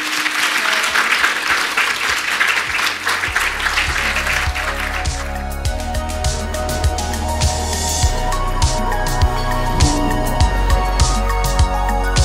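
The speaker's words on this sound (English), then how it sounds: "A big round of applause for them," Applause from a seated audience at a mental health event, a broad clapping wash that thins out as a tonal musical bed with regular beats comes up underneath and carries on to the end.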